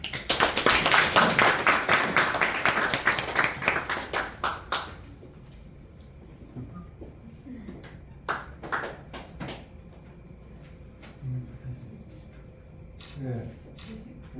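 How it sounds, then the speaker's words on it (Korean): An audience at a book launch and thanksgiving service for a poet's first collection gives a guest a burst of lively applause lasting about five seconds, followed by a few scattered claps and taps in a quiet room. "큰 박수로 환영해 주시기 바라겠습니다"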